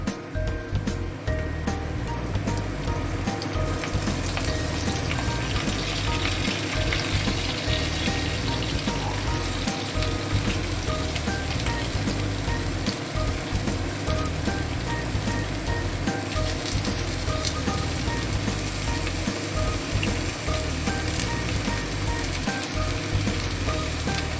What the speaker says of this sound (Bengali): এবারে আমরা কেটে রাখা পটলগুলো তেলের মধ্যে দিয়ে দেবো